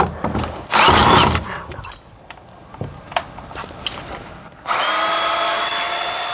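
A power screwdriver driving a screw into a stained glass piece, two loud whirring bursts separated by a stretch of quieter handling clicks and taps.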